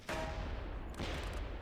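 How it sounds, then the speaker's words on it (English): Rolling gunfire from World War II infantry and tanks in the strategy game Close Combat 3, with a sustained burst of overlapping distant shots and a second wave of cracks shortly after. "There's a lot of shots going out there."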